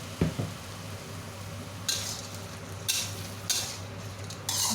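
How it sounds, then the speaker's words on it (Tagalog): Spicy Chinese-style tiger prawns being stirred in a pan, with a steady low sizzle and four short bursts of scraping as the utensil moves through the pan, close up, no talking. "Haluin natin ulit."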